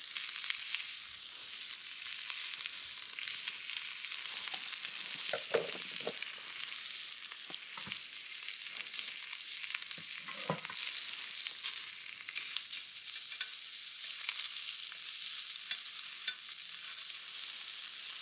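Homemade bacon, fairly fatty slices, frying in a pan with a steady hissing sizzle throughout, broken by a few soft scrapes and pops, no voices.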